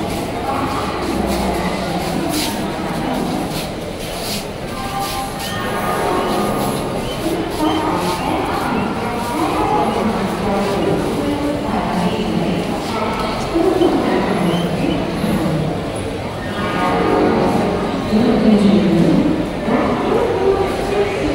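Crowded railway station where a train is awaited, a busy wash of crowd chatter, shuffling and clatter all the way through, with voices talking close by and louder swells near the end.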